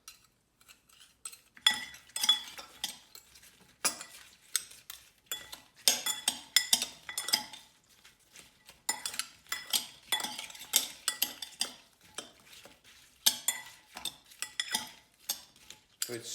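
Metal utensils mix a steak and rice dish with black bean sauce, giving dense, irregular clinks and scrapes against the dish, close and busy, with short pauses.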